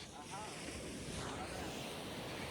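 Sea waves wash steadily onto a beach in Goa, a soft continuous surf roar with wind buffeting the microphone and no distinct breaks.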